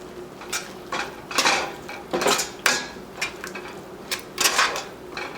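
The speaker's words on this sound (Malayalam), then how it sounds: "ഇത് നന്നായിട്ട് മിക്സ് ചെയ്ത് കൊടുക്കുക" A spoon scrapes and knocks against a pot as ground coconut is stirred into Thalassery chicken biryani masala, producing irregular metallic clinks and scraping strokes at close range.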